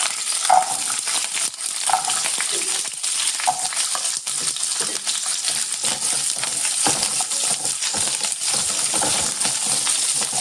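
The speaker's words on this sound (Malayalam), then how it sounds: "കുറച്ച് ചെറിയ ഉള്ളി അതുകൊണ്ട് ഒന്ന് വറുത്തെടുക്കാം." Small onions frying in oil give a steady, close sizzle, broken by scattered sharp clicks and light metallic clinks.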